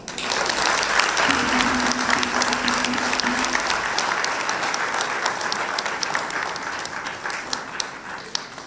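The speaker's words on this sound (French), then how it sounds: "Sous vos applaudissements." Steady applause from an audience at a French-language show, dense and sustained throughout, with a brief faint tone partway through.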